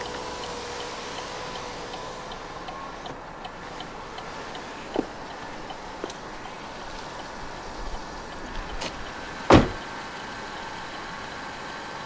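Hazard lights ticking inside a 2015 Vauxhall Corsa 1.4 turbo SE, a soft, regular relay tick repeating under a low cabin hum, with a louder click or knock near the end.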